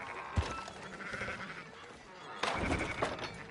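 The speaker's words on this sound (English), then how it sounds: "Fine sheep." Two short, faint bleats from sheep in the video game Red Dead Redemption 2, one near the start and a longer one later, set against quiet ambient background.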